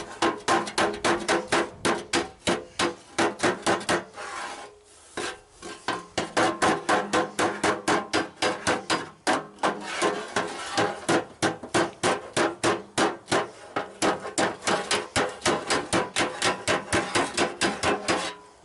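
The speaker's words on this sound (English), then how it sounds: "I might hammer it a little bit more. I like it with the dolly better." Steady, loud metallic hammer blows ring out close up as a claw hammer shapes car body sheet metal against a dolly on a 1929 Ford roadster pickup, struck in rapid regular runs with a brief pause midway.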